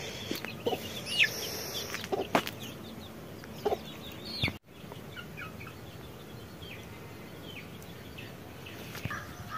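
Chickens cluck intermittently in the background over steady outdoor ambience on a cold rural farm morning, with a few louder calls early on and softer ones later.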